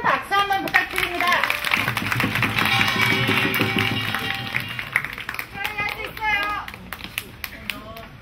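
An audience claps for fighters at a taekkyeon battle match, with scattered applause under an announcer's voice and some crowd noise.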